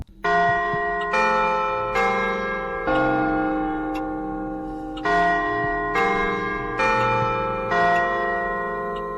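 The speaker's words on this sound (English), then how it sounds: "You then hear chimes of a grandfather clock behind you." Grandfather clock chimes in a Fredbear fangame, a slow sequence of resonant bell-like strikes roughly one per second, each ringing with rich overtones and lingering decay, with nothing else over them.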